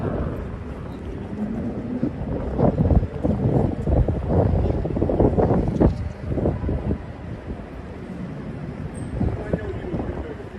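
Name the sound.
strong wind outdoors in Manhattan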